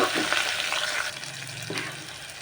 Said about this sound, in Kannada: ಈಗ ಈರುಳ್ಳಿ ಕೂಡ ಚೆನ್ನಾಗಿ ಫ್ರೈ ಮಾಡ್ಕೊಳ್ಬೇಕು